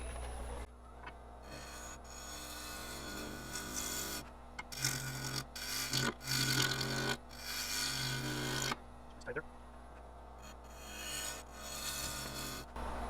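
A lathe gouge rough-cuts a piece of maple, giving a continuous rasping scrape in repeated bursts over a low steady motor hum, with brief pauses between passes.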